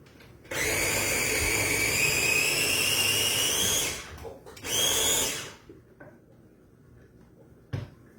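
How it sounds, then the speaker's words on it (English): A food processor whirs loudly for about three seconds as it blends a grilled three-cheese sandwich filling until smooth, cuts out, then gives a second short burst, followed by a faint knock. "we're going to combine all of that in a food processor and blend it until smooth"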